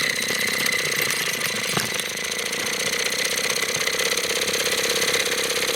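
A barn-find Bassett-Lowke live steam traction engine running under steam, a steady, even rapid chuffing and mechanical clatter held close and constant, with no talking.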